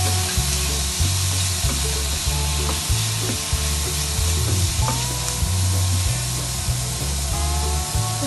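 Sausage, shrimp and bell pepper fry for fried rice in a pan, giving a loud, steady sizzle. Stirring scrapes and pops sound throughout, with no talking.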